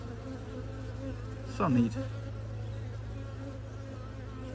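Honeybees at a Flow Hive produce a low, steady buzz throughout, with one louder passing whine from a nearby bee. A person speaks briefly over the humming.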